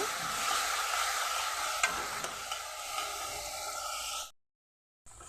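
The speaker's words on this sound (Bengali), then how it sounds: "মশলাটা আমার ভাজা হয়ে গেছে, তেল ছাড়তে শুরু করেছে।" Spice paste (masala) sizzles steadily in oil in a pan for a Bengali vegetarian dal dish, a close, even frying hiss with faint stirring, ending abruptly.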